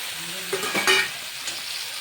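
Pasta and tomato being stirred in a pan, a steady soft sizzle with a couple of quick scraping stir strokes near the middle.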